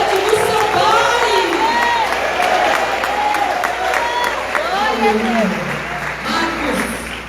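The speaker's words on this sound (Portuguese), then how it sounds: "você sentir vontade de aplaudir ao Senhor com as palmas, faça isso" A church congregation claps hands in applause, a dense steady patter of many hands with cheering voices and talk mixed in throughout.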